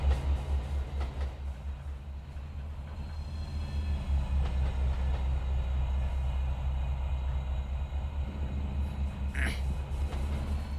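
A train in the video game Trainz 12 rumbles along steadily at about 30 with a deep continuous engine drone and faint rail clatter, loud and close, without speech.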